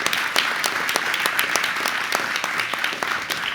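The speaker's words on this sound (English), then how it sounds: "I think that deserves an applause" An audience at an alumni awards celebration breaks into sustained applause, a thick wash of many hands clapping with sharp individual claps standing out, steady and close for the whole stretch.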